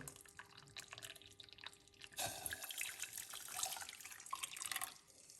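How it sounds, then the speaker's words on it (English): Hot water pours steadily into a cup after a brief trickle, a soft close splashing stream that continues for a few seconds. "I'm going to measure out the hot water."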